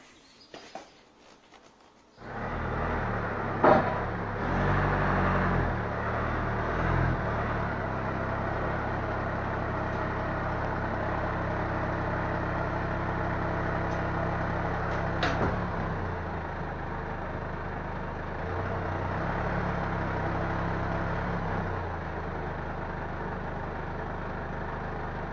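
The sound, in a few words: car reversing onto garage ramps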